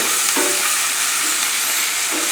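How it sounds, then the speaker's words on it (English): Vegetables for a broccoli, zucchini and brown rice dish sweating in a pan, a loud, dense, continuous hiss of sizzling close by with a few brief stirring scrapes. "So we sweat this up"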